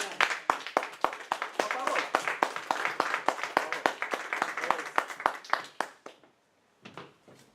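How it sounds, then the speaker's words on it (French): A church congregation applauding hard, brisk close rhythmic claps that keep up for several seconds, then stop abruptly into near silence before a few scattered last claps. "On acclame très fort."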